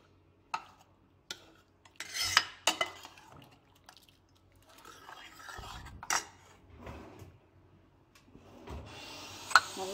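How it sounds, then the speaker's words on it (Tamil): A ladle mashes cooked carrots in a pot of keerai (greens) soup, giving sparse metallic clinks against the pot and soft scraping and squishing, close by with no talking. "அப்படியே கரண்டியால் கொஞ்சம் நசுக்க விட்டுட்டு"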